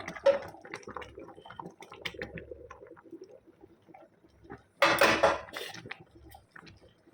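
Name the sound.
pouring Amul milk into a pot of warm water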